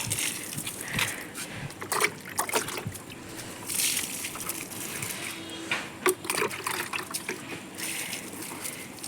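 Rice-washing water poured over potted plants, with intermittent splashing and trickling bursts, some close and some softer, running unevenly over several seconds with no talking.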